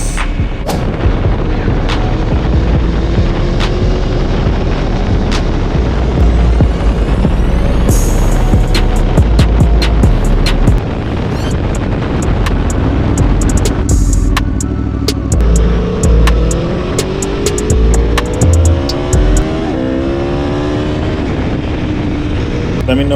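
An Aprilia Tuono motorcycle ridden on Florida streets, its engine roaring loud and close throughout with rising and falling revs, crackling and popping, and wind noise.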